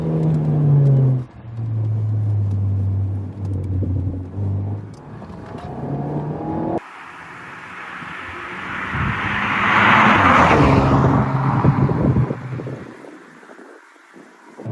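Alpine A110 sports car driving along a country B-road, with a steady engine note and a strong rush of wind, the engine swelling louder toward the middle of the run before easing.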